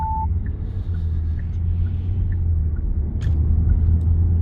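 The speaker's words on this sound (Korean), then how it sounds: "제네시스 G80 차량 방음 시공 후에 자유로 주행을 한번 해보겠습니다" A Genesis G80 sedan cruising on the Jayuro highway after soundproofing work, heard from inside the cabin as a steady, loud low rumble of road and engine noise, with a few faint short chimes and ticks and no talking.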